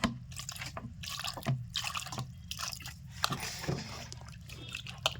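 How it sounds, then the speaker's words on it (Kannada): Water drips off fresh butter as it is turned by hand while making village-style ghee, a few small, close drops and splashes falling at irregular intervals with no talking. "ಆ ಕಡೆ ಒಂದು ಸಾರಿ ಈ ಕಡೆ ಒಂದು ಸಾರಿ ತಿರುವಿದ್ರೆ 2 ಹನಿ ನೀರು ಬರ್ತಿರ್ತಾವೆ ನೋಡ್ರಿ"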